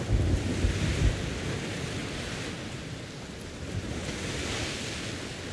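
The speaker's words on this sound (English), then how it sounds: "And this is the sound when a freaking storm hits land." A storm lashes the coast in the sea game Sea of Thieves: waves crash and wind roars in a continuous, full-bodied wash of surf, with a heavier rumbling surge at the start, then a steady, slightly rising blustery roar.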